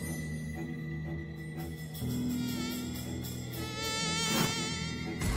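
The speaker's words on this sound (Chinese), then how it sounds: "这都几月了还有蚊子？" A mosquito's thin, steady whine buzzes close by for several seconds, layered over a continuous musical score in an indoor drama scene.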